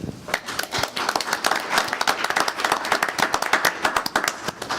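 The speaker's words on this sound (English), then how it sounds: "So, again, a round of applause." Board of education meeting audience giving a round of applause, a smaller group with crisp, separate claps in an uneven patter at moderate loudness.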